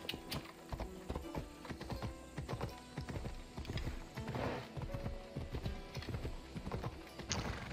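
A horse's hooves clip-clop in a steady trotting rhythm in the video game Assassin's Creed Odyssey, close and clear over a soft game ambience.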